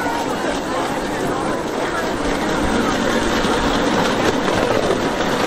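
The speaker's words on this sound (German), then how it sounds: "Der Zug fährt ungefähr 7-8 Stundenkilometer, oder wie schnell fährt der?" A live steam model train runs at a club running day for large-scale model railways, a steady close rushing and rumbling with faint clatter, while people talk nearby.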